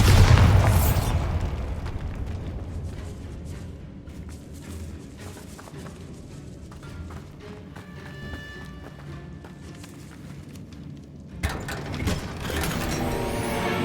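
A Bombarda blasting spell in Hogwarts Legacy goes off with a loud, booming burst, followed by clattering mechanical rumble and rattling debris. A second heavy crash hits near the end.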